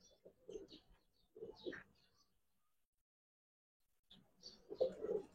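Pigeons coo softly in a loft in two low, throaty bursts with a quiet pause between them, heard close and alone.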